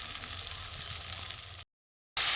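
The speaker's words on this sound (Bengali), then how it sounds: "সব মশলা দিয়ে দিয়েছি, একটু কষে নেবো ভালো করে" Salt, turmeric, cumin, coriander powder and grated ginger sizzle over low heat in a pan for a vegetarian dish. A steady, close frying hiss runs on, breaks off into a brief silence, then returns louder, with no voices.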